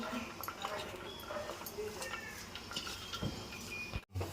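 Onions, cumin seeds and green chillies mixed together in a bowl, soft clinking and squishing of the mixture near the microphone, with someone talking over it.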